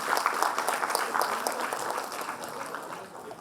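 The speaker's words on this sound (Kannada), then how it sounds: "ತಮ್ಮ ವಿಶೇಷವಾದ ಒಂದು ಚಪ್ಪಾಳೆಗಳ ಮೂಲಕ ಅವ್ರಿಗೆ ಉತ್ತೇಜನವನ್ನು ನೀಡಬೇಕು ಅಂತ ಕೇಳ್ಕೊಳ್ತಾ ಇದ್ದೀನಿ" An audience applauds a scholarship topper at a Sarthaka Scholarship 2025 event, a dense burst of clapping that is loudest at the start and gradually thins toward the end, with no voices on top.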